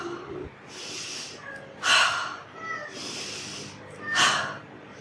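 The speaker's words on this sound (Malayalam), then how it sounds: "മൂക്കിലൂടെ ശക്തിയായി വലിച്ചെടുത്തത് വായിലൂടെ വളരെ ഫോഴ്സായിട്ട് പുറത്തേക്ക് വിടുക." In a breathing exercise for cough and congestion, a person draws forceful breaths in through the nose and pushes them out through the mouth. Two loud, close rushes of breath stand out clearly with no talk.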